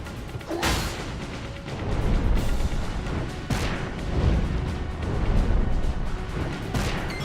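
Explosions in the Final Fantasy X video game: several loud, rumbling booms and crashes rolling over each other throughout, with sharp bursts near the start and midway, continuous dense blasting with no voices.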